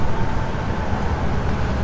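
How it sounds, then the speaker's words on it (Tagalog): Steady, loud rumble of an MRT train station in the Philippines, with continuous low mechanical and rail noise and no clear voices. "So yun guys, nasa MRT station na tayo."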